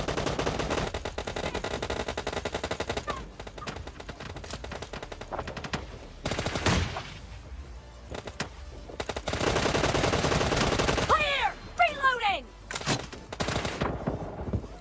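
Bursts of M249 light machine gun fire from PUBG Mobile gameplay, loud rapid automatic volleys broken by short pauses, with sharper echoing shots and ricochet-like whines toward the end.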